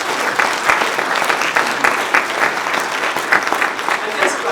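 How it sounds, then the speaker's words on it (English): Round of applause from an audience at an evening event at Benedictine University, a dense steady crowd clapping that holds at an even level throughout, close and loud, with faint voices mixed into the clatter. "he deserves a great round of applause"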